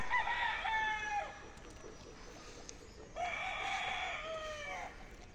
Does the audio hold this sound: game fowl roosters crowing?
yes